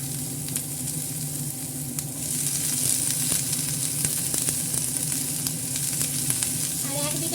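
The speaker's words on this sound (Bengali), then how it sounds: "এই পেঁয়াজগুলো আপনার অল্প ভাজতে দিয়ে দিচ্ছি।" Onions frying in a little mustard oil in a wok, a dense steady sizzle that grows louder partway through, with occasional light stirring scrapes up close.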